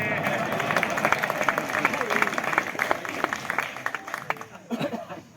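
An audience at a Hindi political speech bursts into sustained applause, dense rapid clapping from a crowd that swells and then thins out toward the end, with some murmuring mixed in.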